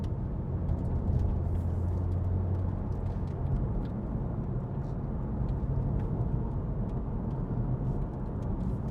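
A Honda Civic 2.0 i-VTEC Type R GT cruises along a country road, heard from inside as a steady, fairly quiet low engine and road hum with faint tyre rumble throughout.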